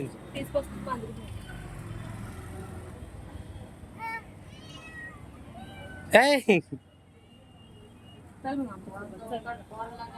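An outdoor cat near a garden meows in a few short, clear calls, loudest in a sharp burst partway through, while people talk in the background.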